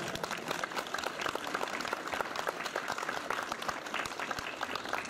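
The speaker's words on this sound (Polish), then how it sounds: "Wielkie brawa!" A concert audience gives steady, full applause for a vocal trio with violin and piano, a dense even patter of many hands clapping without pause.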